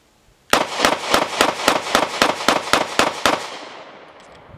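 Rapid string of about twelve loud, sharp handgun shots from a Canik MC9 at an outdoor range, evenly spaced and close, ending in a fading echo.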